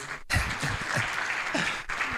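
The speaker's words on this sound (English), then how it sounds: "It's a long walk, so please keep clapping." An audience at a conference on Ghana's 24-hour economy applauds steadily, a dense continuous patter of many hands clapping in a hall, with no talk over it.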